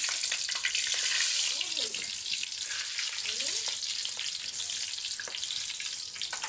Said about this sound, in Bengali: দুটো কাঁচা লঙ্কা ফোড়ন নিলাম তারপর দুটো শুকনো লঙ্কা ফোড়ন নিলাম ভালো করে একটু নেড়ে নিলাম